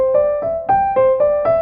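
Piano notes played without the sustain pedal: six short, evenly spaced notes, each clearly separated and cut off before the next, close and fairly loud, with no voices.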